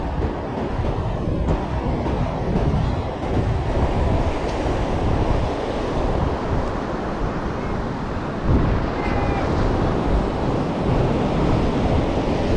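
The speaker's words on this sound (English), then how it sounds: "the waves are really big" Big ocean waves pounding the beach at Durban, a steady, loud roar of surf mixed with wind buffeting the microphone, continuous throughout with no speech.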